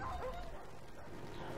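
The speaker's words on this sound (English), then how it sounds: "Yeah, those dogs are obnoxious." Dogs in a shooter video game yip and bark faintly in a brief cluster at the start, followed by a low, muffled game backdrop.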